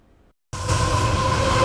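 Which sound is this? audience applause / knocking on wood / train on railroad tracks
train on railroad tracks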